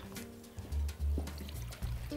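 Water trickles and splashes over a small mosaic garden fountain, a soft, close flow with a few louder gurgling pulses.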